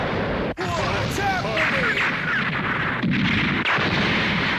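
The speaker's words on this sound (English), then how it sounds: "Awesome Little Warrior fired a Kamehameha in that episode as well, causing 2 explosions" Cartoon energy-blast explosions from the Kamehameha attack in a Dragon Ball episode, a dense, continuous roar of booming blasts and crackling bursts filling the whole stretch, with a brief dropout near the start, loud and close.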